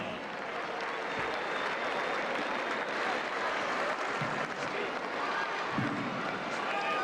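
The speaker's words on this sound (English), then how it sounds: "can we have a big round of applause for Bill Palmer" A crowd at the 1993 Australian NBL Grand Final basketball game, Wildcats versus Tigers, applauding loudly and steadily, dense clapping that fills the space without pause, with faint cheers mixed in.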